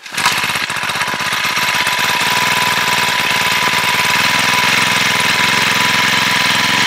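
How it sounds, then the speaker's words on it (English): A four-stroke engine on a portable winch starts and runs steadily outdoors, a loud, continuous close-up drone with a knocking, mower-like chug that holds an even level throughout. "It's a 4-stroke engine."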